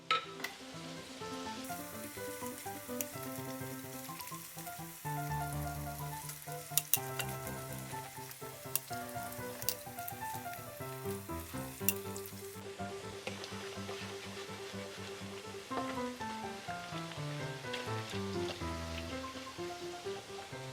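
Peanut cracker (peyek kacang) batter frying in a small wok produces a steady crackling sizzle with occasional stirring clatter, heard under continuous melodic background music throughout.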